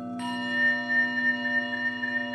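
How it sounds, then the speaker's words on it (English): Singing bowls playing a millennium composition in the lamp room of a Trinity Buoy Wharf lighthouse by the Thames: sustained, shimmering metallic tones overlap and slowly pulse, soft and reverberant with no voices. "It's played on singing bowls"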